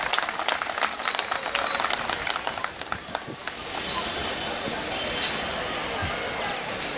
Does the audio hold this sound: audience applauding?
yes